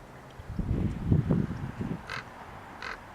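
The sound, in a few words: birds calling at the beach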